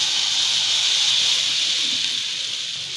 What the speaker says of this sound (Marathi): आता हे पीठ कालवून घेतलंय, लागेल तसं पाणी ओतून आपण हे फोडणीमध्ये ओतून घेऊया